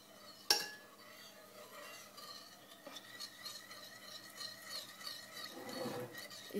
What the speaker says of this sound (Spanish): Así que disolvemos el café